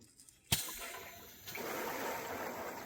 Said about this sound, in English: So when you're running it, it's blowing the water out of that pipe